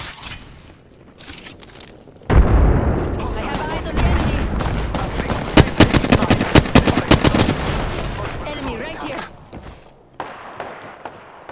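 Frag grenade blast in Apex Legends, a loud sudden boom followed by a long stretch of rapid gunfire bursts and thuds, close and dense, with a voice talking before and after.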